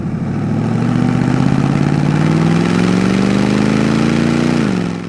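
A 1972 Chevrolet Camaro RS with a numbers-matching 350 V8 and automatic transmission drones steadily from inside the cabin while driving, its pitch rising gradually before easing off near the end.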